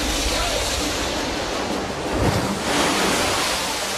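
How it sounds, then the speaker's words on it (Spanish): Ocean waves surging and crashing in a steady, loud broadband roar with wind noise, swelling slightly toward the end, no voices. "Son olas gigantes que viajan más rápido que un jet y pueden cruzar océanos enteros en solo unas horas."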